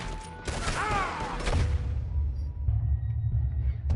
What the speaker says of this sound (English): We're making a stand outside. What in God's name is going on? Just keep shooting!